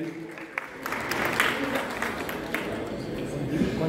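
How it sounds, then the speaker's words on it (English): Crowd applause at a Guinean community gathering in New York, a rising burst of clapping from many people mixed with voices and talk, fairly close and moderately loud. "Applaudissez, s'il vous plaît"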